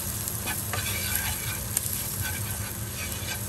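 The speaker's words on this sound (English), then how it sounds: "Mix the curry like this." Curry and garlic powder sizzling in a pan while being stirred: steady close frying hiss with light scraping taps of a spoon, no voices.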